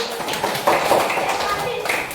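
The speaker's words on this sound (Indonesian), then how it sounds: "Oke, tepuk tangan." A classroom of students clapping together on a teacher's cue, a short burst of hand claps mixed with voices talking over it.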